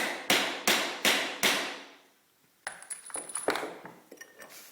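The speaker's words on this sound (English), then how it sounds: "So I'll place it in there using the hammer." A hammer taps a metal letter stamp four times in a steady rhythm to type a plant label at a nursery, each strike a sharp close ringing knock, followed by a few lighter clinks and handling noises.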